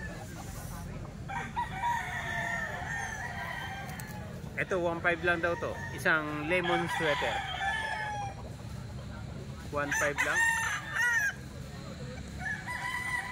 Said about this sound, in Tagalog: Ito marami pa ring manok. Bintahan ng manok din.